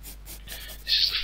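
A pen or pencil scratches briefly across paper while a tattoo sleeve design in biomechanical style is drawn by hand, a soft, close stroke sound that grows slightly brighter toward the end.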